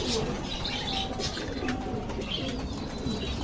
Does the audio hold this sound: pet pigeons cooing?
yes